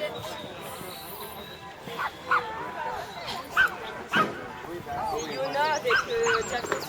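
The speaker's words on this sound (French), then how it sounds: "Un petit schnauzer." A small schnauzer puppy yips, barks in a few sharp bursts and whimpers at a dog training club, with people talking in the background.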